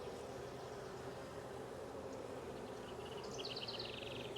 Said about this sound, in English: There's still a ton of bees in here.